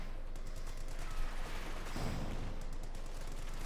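Sustained machine gun fire rattles amid the battle noise of Company of Heroes 2, in dense rapid bursts over a continuous din of distant gunfire and explosions.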